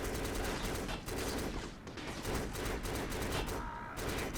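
Rapid 5.56 rifle fire from the video game Black, with dense, loud bursts of automatic shots crackling close and continuous, layered with echoing reports and no voices.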